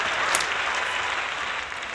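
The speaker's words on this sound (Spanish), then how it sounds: "un aplauso para el periódico" Steady applause from a studio audience on a Spanish-language comedy show, a dense continuous patter of clapping that stays even and fairly loud throughout, with no voices over it.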